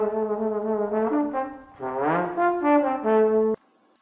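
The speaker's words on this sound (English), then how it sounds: "So that is the trombone." Trombone notes with smooth slides between pitches, a sustained brass tone gliding up and down over about three and a half seconds, played solo with no talking.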